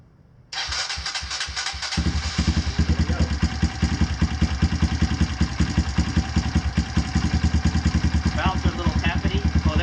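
A Kawasaki KLX170 big-bore motorcycle engine, freshly rebuilt, cranks and fires, then settles into a steady, close, rapid idle with a slightly tappety valve clatter, running alone without talk.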